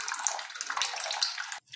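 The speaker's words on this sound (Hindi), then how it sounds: "इसमें मैं ऐड कर रही हूँ पानी" Water poured onto two teaspoons of sabja seeds while preparing masala buttermilk, a steady close splashing pour that runs for over a second and a half, then stops abruptly.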